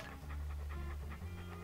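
A dog pants in the Monkey Island 2 Special Edition video game, with quick rhythmic huffs repeating evenly over a low droning music bed.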